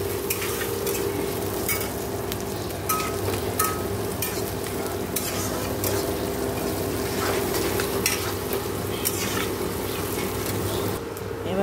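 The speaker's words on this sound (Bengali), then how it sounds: "চলো এটা একটু ভাজা ভাজা করে নিই" Onion and green chili frying in hot oil in a pan on a gas stove, a steady sizzle broken by repeated scraping stirs of a utensil, with no talking.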